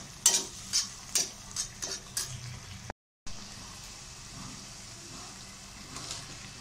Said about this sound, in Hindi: अब मैं आलू इसमें डालूंगी।